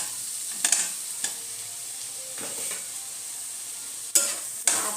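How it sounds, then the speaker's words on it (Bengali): Fried potatoes stirred through spice masala in a pan for a Bengali prawn curry, with a soft continuous sizzle broken by several sharp scraping stirs of the spoon against the pan, close and moderately loud. "আবারও একটুখানি আলুর সাথে মশলাটাকে কষিয়ে নেব।"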